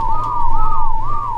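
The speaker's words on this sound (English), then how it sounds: "we're gonna start whistling, stay put, and we should see that we have the breeding going on" Repeated whistling by a player character in the game ARK, commanding tamed hyenas and sabers, with a steady wavering two-tone whistle running loud and continuous over a low game hum.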